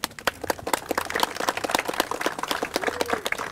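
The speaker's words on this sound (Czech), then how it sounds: "můžeme prosím zatleskat pro ženicha" Wedding guests clap for the groom at a reception in the Bastion restaurant in Prague, a dense, lively round of applause with sharp individual claps continuing steadily throughout.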